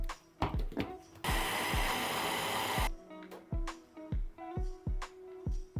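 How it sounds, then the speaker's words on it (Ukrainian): Blender whirring through raw chicken fillet and egg for a low-calorie recipe, one loud steady burst of about a second and a half between sharp knocks and clatter. "солимо і збиваємо це все в блендері до однорідної маси"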